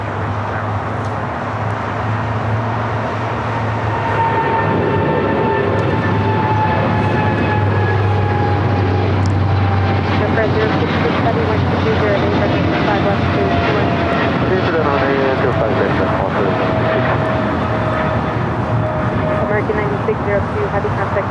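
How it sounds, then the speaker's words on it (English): An American Airlines Boeing 777-300ER takes off at LAX with a loud, sustained jet engine roar and a shifting whine, heard from nearby over the entire span, with a voice talking over it. "This is American Airlines 9602 taking off to Miami, Florida on a 777-300ER."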